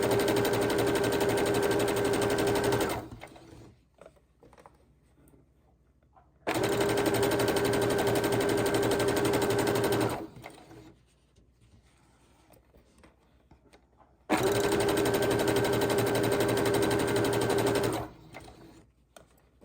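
Sewing machine stitching quilt block scraps, three loud steady buzzing runs of about three to four seconds each, separated by quiet pauses with faint handling noise.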